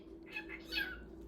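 A pet cat gives a short, soft meow, a single brief call heard close up over a faint steady hum.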